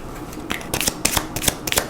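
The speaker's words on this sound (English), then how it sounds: "Now we shuffle the discard pile back into the draw deck." A deck of playing cards is shuffled at a dining table during a solo board game, giving a quick burst of riffling snaps and slides close to the microphone.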